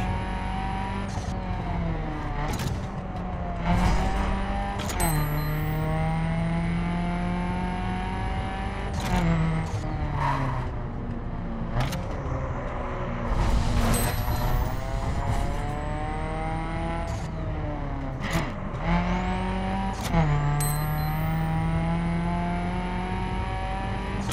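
Nissan 370Z with a manual stick shift and clutch in The Crew racing game, its engine revving up and down through repeated gear changes with loud, sustained rising and falling tones across the lap, no talking.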